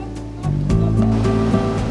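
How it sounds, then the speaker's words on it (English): Fast, high-volume water rushes out of the mouth of Kong Lor Cave in Laos, a dense, steady roar of flowing water near at hand, with no talk over it. "The water flowing out of the cave was definitely a high-volume situation."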